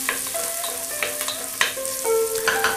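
Onions sautéing in a pan for beef barley soup, a close, steady sizzle with stirring scrapes and occasional sharper crackles.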